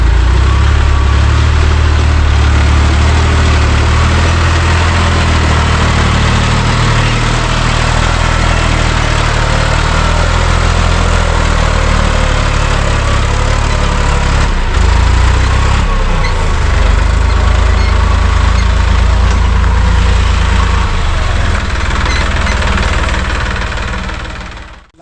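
A tractor engine runs loud and close while another stuck tractor is pulled out on a field track, a steady low rumbling throb with a knocking edge that holds for the full stretch with no voices.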